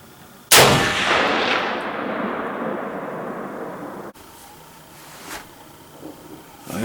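A single hunting gunshot fired at a deer during deer season booms loudly, then rolls off into a long decaying echo across open ground, followed by faint rustling and quiet thumps.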